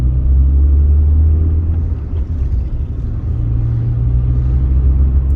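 Car accelerating hard during a performance run, a loud steady low engine rumble from inside the cabin with a slight dip in the middle, continuous throughout.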